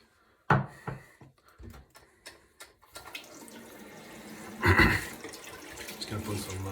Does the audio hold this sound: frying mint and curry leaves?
no